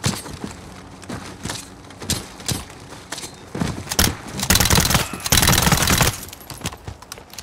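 Gunfire in the video game Call of Duty Modern Warfare, Uzbekistan mission, with scattered single shots building into dense sustained automatic bursts, loud and close.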